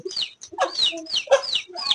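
Hens cluck in short bursts of several rising, strained calls close by, loud and clear with no talking, while chicks share the setting with cockatiels.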